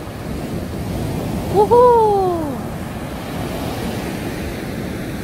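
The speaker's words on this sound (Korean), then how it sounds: "동해는 그 낮에는 바람도 많이 불고 파도가 세잖아요" East Sea surf washing onto a small beach with apartments behind it, a steady broadband wash of waves with wind noise throughout, while a voice calls out briefly partway through.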